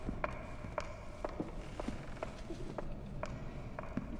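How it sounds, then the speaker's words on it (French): Footsteps thud through a dim level of the horror game Layers of Fear, about ten steady, evenly spaced steps at a walking pace over a low ambient hum, with no voices. "Petit bruit de pas là par contre"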